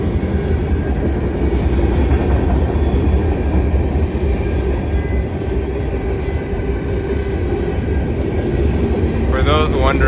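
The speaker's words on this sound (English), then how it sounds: "Do you think the train's gonna stop at any point?" A CSX manifest freight train rolls past at Seldom Seen Road, a steady loud rumble with clattering wagons filling the whole stretch, with people talking over it near the end.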